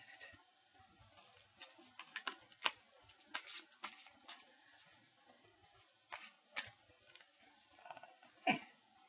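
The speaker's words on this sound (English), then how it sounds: "Shuffle tarot" Tarot cards being shuffled give a series of soft, scattered flicks and ticks at irregular intervals. The sound is quiet and close, with no voices.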